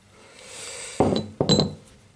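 Machined metal gears give two sharp, close metallic clinks in quick succession as they are spun by hand, each ringing briefly against a quiet background.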